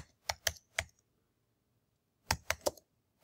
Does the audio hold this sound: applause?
no